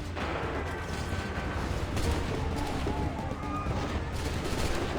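Musket volleys and gunfire crackle without letup in a battle from Assassin's Creed 3 on Nintendo Switch, a dense loud wash of shots and rumbling booms throughout.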